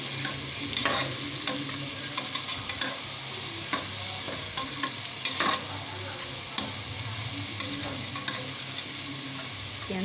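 Onions sautéing for chicken biryani made with samba rice, a steady sizzle with repeated scraping and stirring clicks across the pan, fairly close and continuous, with no talking.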